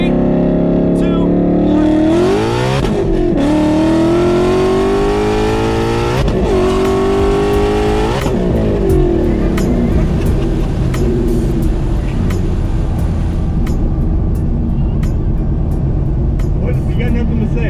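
A 1000hp Mustang launches hard on a track, its engine climbing through several loud, rising rev sweeps with sharp shift breaks before settling into a steady roar that fades slightly as it continues.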